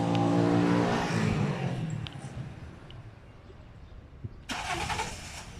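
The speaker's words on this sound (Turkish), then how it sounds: "Uzaktan çalıştırmayı test etmek için bir komut gönderiyorum." A 2013 Toyota Corolla started by remote start, its engine cranking and catching into a loud rev that settles toward idle, heard from nearby outdoors, followed by a short electronic chirp near the end.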